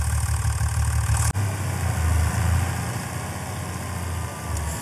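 A John Deere tractor engine idles steadily in Farming Simulator 25, a loud, constant low mechanical drone with a brief dropout early on, then continuing evenly.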